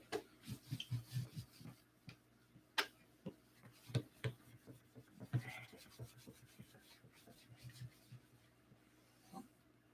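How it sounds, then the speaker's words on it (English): Paint touch-ups hand sanded with sandpaper, giving quiet, close rhythmic rubbing strokes in short bursts, faint and soft throughout. "you, Len, you need to sand closer to your sandpaper for longer periods of time in order to get a nice light finish"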